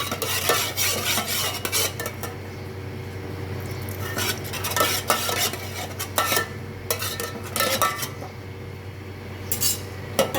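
Mustard paste, ginger paste and milk being stirred in a pan, a utensil scraping and clinking against the metal in irregular strokes over a low steady hum, close and alone without talk.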